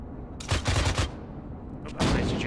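Gunfire aimed at a bunker in Arma 3: a short volley of several loud, close shots, a quieter lull with faint distant reports, then another heavy burst of fire.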